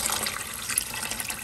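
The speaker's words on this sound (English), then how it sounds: "So I'm gonna go ahead and add the water." Water pours steadily into a pot of rice being prepared at home, a continuous close splashing rush with no talking.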